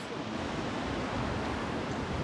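Small waves breaking close to the shore where surfers ride, a continuous broad hiss and rush of surf with steady loudness and no distinct individual crashes.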